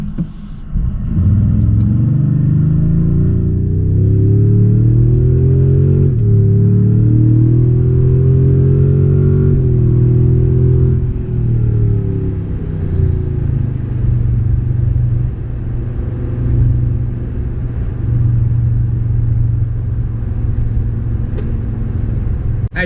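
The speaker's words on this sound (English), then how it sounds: "the truck has no issues getting up to speed from a dead stop" A 2022 Toyota Tundra TRD Pro pulls away from a dead stop, its engine note climbing steadily in pitch through the gears as a loud, sustained deep rumble that settles into a steady cruise, with no talking.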